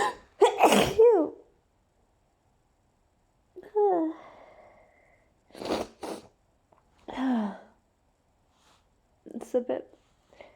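Hay fever sneezes burst out loud and close, a sharp sneeze first followed by later sniffs and smaller sneezes with pauses between, plus talk in a voice.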